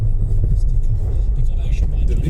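Car interior on a drive to Cumbernauld, Scotland, with a steady low road rumble and engine drone under close conversation.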